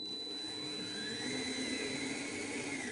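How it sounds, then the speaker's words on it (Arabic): A kitchen blender whirs steadily at low speed mixing kibbeh dough, a continuous motor drone with no pauses or voices. "احطه على الخلاط ومجرد اني انا اثبت المضرب اشغل على سرعه بطيئه"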